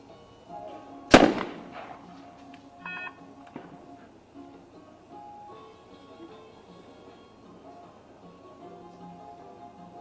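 A shotgun fires once, loud and sharp, during a mixed-team trap shooting final at an ISSF World Cup in Cyprus. A fainter report and light crackle follow over quiet outdoor background.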